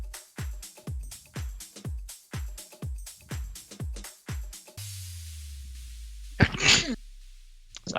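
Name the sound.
sneeze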